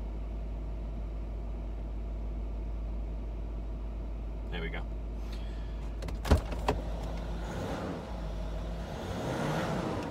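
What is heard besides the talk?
Range Rover L322 air suspension raising to drive height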